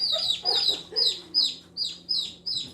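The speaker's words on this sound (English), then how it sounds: "And these are baby turkeys." Baby turkeys and chicks in their pen give a run of seven evenly spaced, sharp high peeps, close and clear over a low steady hum.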